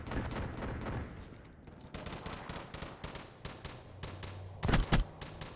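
Automatic gunfire in Black Ops 3, bursts of rapid shots in quick succession with a heavier cluster of blasts near the end, loud and close.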